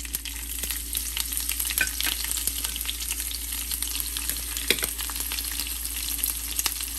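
White sesame seeds and curry leaves crackle and sizzle steadily in hot tempering oil for Gujarati khandvi, a close, continuous frying hiss with scattered pops and light stirring.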